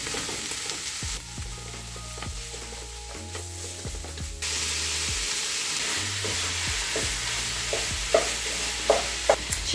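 Ground meat for moussaka fries in a pan with a constant sizzle that grows louder partway through, while a spatula scrapes and breaks it up with repeated scratchy strokes.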